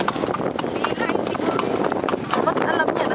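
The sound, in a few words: horse hooves clip-clopping, pulling a kalesa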